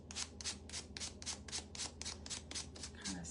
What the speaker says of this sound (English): let's use our little sander